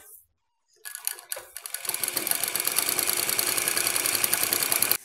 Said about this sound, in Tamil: இப்போது லைனிங் துணியை நாலு ஓரமும் இந்த ஓரம் இந்த ஓரம் முன்பக்கம் ரெண்டு ஓரமும் தச்சு முடிச்சிட்டோம்.